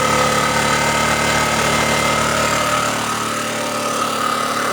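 A generator set runs on firewood, its engine droning loud and steady close by with a rough, vibrating hum and no voices.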